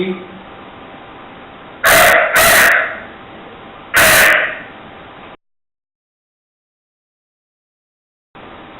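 A man mimics a crow with his voice, letting out three short, harsh caws in quick succession at close range, followed by silence.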